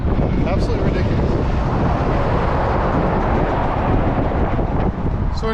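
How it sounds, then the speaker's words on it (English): Strong wind buffets the microphone with a constant loud low roar and rushing noise throughout. "it's windy out here"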